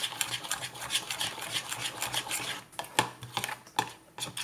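Cocoa powder is stirred into cake batter in a bowl, giving a continuous scraping, swishing rhythm of a utensil working the mix, with a few sharper taps against the bowl.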